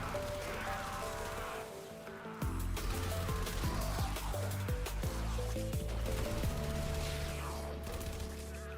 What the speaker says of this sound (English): It's like a little submachine gun with Entrati bits that glued to it.